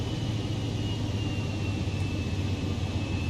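Steady, droning cockpit engine hum of a Vision Jet single-engine aircraft in Microsoft Flight Simulator 2020, low rumble with a thin high whine holding constant throughout, no voices.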